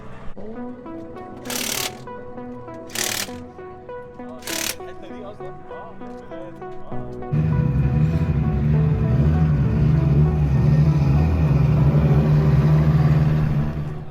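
A drift car at a drift competition runs warm-up laps on track, first a few brief bursts passing amid quieter background, then a loud sustained engine roar holding steady and close for the final several seconds.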